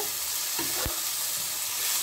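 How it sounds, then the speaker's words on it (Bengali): Masala for an egg curry is sautéed and stirred in a pan, with a continuous close sizzle and one or two brief scraping knocks of the spoon, and no talking. "এবারে ভালো করে একটু কষাতে হবে।"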